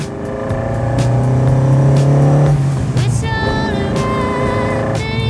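A classic Ferrari 308 GTS with a V8 and Targa top drives at steady engine load, its tone shifting through gear changes and rising revs, loud and close throughout with no talk.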